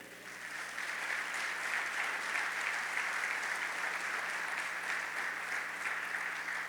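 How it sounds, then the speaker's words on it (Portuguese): A church congregation applauds steadily during a Portuguese-language sermon, a dense wash of clapping from many hands that holds at an even, moderate level throughout with no voices rising above it. "diga amém e dê um aplauso ao Senhor"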